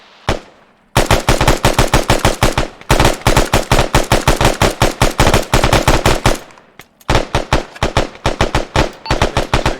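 Marine platoon firing in a Mad Minute training drill, dense rapid bursts of loud, close automatic gunfire in long sustained strings broken by brief pauses.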